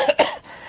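Two quick, close coughs in quick succession from a man, followed by a short raspy trailing breath and then quiet.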